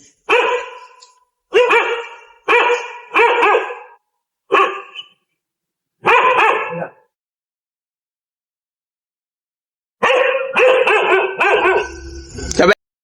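Dogs bark loudly nearby in short repeated bursts, then fall silent for a few seconds before a final flurry of barking.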